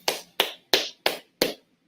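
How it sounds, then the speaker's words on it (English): Five sharp, separate hand claps close to the microphone on a livestream, evenly spaced with brief decays and silence between them. "Clap it up"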